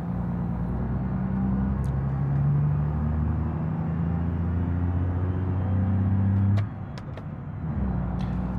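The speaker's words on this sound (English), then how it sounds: "The truck sounds incredible" A truck engine in the BeamNG driving game drones and rumbles steadily, its pitch rising as it pulls, then the load drops suddenly as it eases off, with a few brief clicks.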